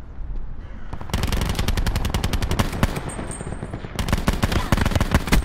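Rapid automatic gunfire in a Call of Duty: Black Ops 4 Blackout match near a lighthouse, loud sustained bursts of shots with brief pauses, dense and close throughout.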